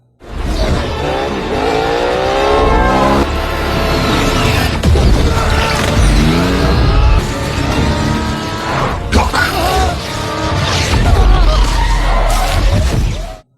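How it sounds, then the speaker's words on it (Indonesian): A motorcycle chase from the film Venom, with loud, close engines revving and roaring past, whooshes, tire squeals and crashing impacts layered together, and a voice talking over the action. "Eddie pun berusaha kabur menggunakan sebuah motor dan aksi kejar-kejaran pun terjadi"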